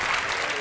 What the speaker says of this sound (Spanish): Le damos el aplauso fuerte a él